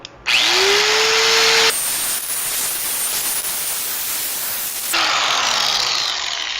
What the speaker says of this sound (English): now I'm going to take my air file and work the weld proud down a little bit